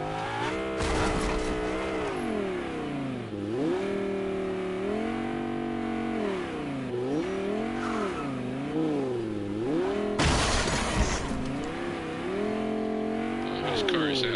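A video-game car engine revs and drones continuously, pitch rising and falling as it accelerates and eases off, with brief noisy bursts near the start and again around two-thirds through; loud and steady throughout, no talking.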